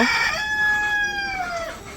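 Rooster crowing at close range in a village yard, one long drawn-out call that falls away at the end, with faint hen clucking at the start.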